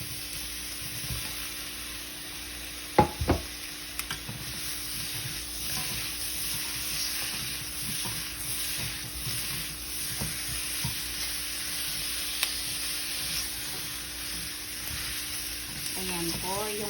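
Lechon pieces sizzling as they fry in a pan with sautéed ingredients, a steady soft crackle running throughout, with a couple of sharp clinks and stirring knocks early on.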